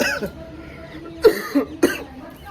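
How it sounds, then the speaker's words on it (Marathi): Two or three sharp coughs close by from someone with a cold, separated by brief pauses, over a quiet background. "खोकला आहेच."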